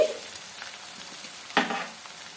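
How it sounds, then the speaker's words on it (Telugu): Ginger garlic paste with onions fries in hot oil, a soft sizzle with scattered crackles and a louder stirring scrape midway, close and steady throughout. "అల్లం వెల్లుల్లి పేస్ట్ కూడా పచ్చి స్మెల్ పోయేంత వరకు వేయించుకోవాలి"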